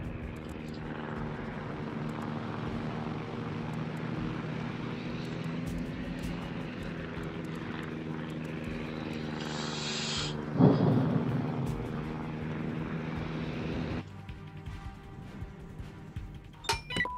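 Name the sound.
carrier aircraft taking off in World of Warships video game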